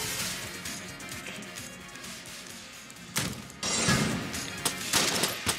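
Gunfire in the video game Enter the Gungeon comes as scattered bursts of shots and crashing impacts, moderately loud against quieter game ambience.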